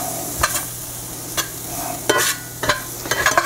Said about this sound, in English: And keep stirring it at this point